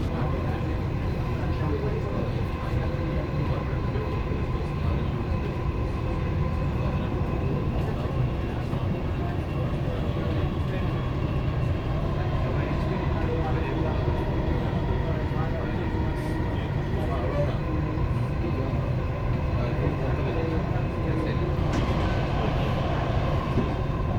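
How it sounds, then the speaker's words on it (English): A Dubai Metro train runs along the line, giving a loud, steady low rumble and rolling rail noise that lasts throughout, with faint voices in the background. "So we already reached the platform for the Dubai Metro."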